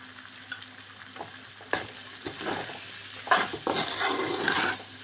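Chicken with sliced onion, curry leaves and a little salt fries in a pan, a close, steady sizzle swelling louder toward the end, broken by scraping stirs and a few utensil knocks.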